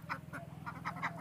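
Ducks quack close by in a short, lively sequence of rapid, nasal calls that overlap over a faint low hum.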